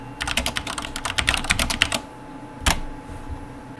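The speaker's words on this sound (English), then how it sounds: "you type in latitude and type in your location" A location is typed on a computer keyboard in a quick, close burst of clicking keystrokes, then a short pause and one final louder key press.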